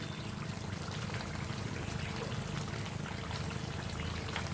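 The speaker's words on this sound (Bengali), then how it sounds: "এরপরে আমি সামান্য একটু কেওড়া জল দিব" Kewra water pours into a simmering mutton curry in a pot, giving a soft, steady trickling splash that continues close by for a few seconds.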